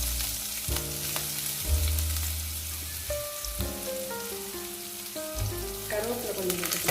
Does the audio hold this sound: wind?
no